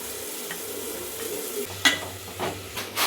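Food fries and sizzles steadily in a pan while being stirred, with a few sharper scrapes and clinks of a utensil against the pan near the end, close and fairly quiet with no talking.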